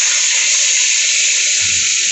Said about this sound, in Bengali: এর মধ্যে আলু আর পেঁপেগুলো দিয়ে দিচ্ছি। জলটা অ্যাড করে দিচ্ছি।